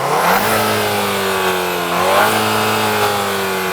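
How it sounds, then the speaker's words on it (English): A VW Arteon R Shooting Brake's 2-litre turbo petrol engine with dual-clutch automatic gearbox, revved twice while standing, each rise climbing sharply then hanging and settling, loud and close with no talking. "So go on, start it up, give it some revs."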